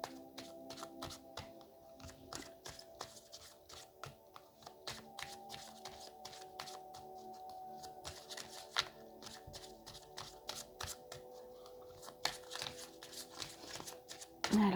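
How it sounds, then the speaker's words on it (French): Oracle cards being shuffled and drawn during a tarot-style reading, giving soft repeated taps, flicks and papery rustles at close range that run steadily throughout, with faint room tone behind. "on va prendre une dernière carte avec mon oracle pour terminer le tirage"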